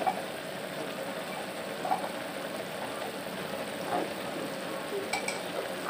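Cumin, chili and turmeric powders with salt frying in a pan for a pangas fish curry, a soft continuous sizzle with faint scraping stirs every couple of seconds.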